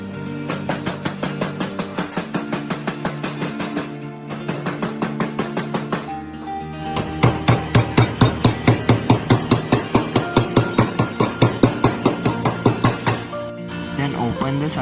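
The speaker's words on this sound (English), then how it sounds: "and hammer it for proper folds" Hammer blows fold a tin can being made into a bird feeding box, first in short even bursts and then in a faster, louder run of close, sharp metallic taps.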